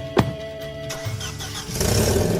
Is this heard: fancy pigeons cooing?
no